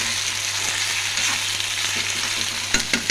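Eggplant and tomato curry cooking in a pan, a continuous hiss of frying with a soft stirring scrape, and a few louder clanks of the spoon near the end; no one speaks.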